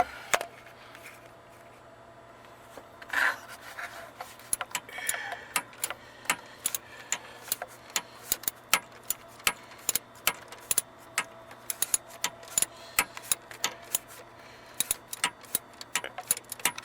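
A wrench tightens a bolt on the alternator of a 2014 Kia Soul, making a series of sharp metallic clicks and ratcheting taps close by, sparse at first and then coming in quicker, irregular bursts.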